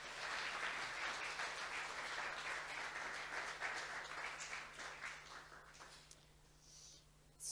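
A church congregation applauding, sustained clapping from many hands at a moderate distance with a steady low hum underneath, fading toward the end.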